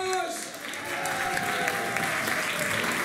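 Warm audience applause fills an evening show, a dense, even clatter of many hands clapping that swells after a brief dip and carries on steadily, with a speaking voice trailing off at the very start.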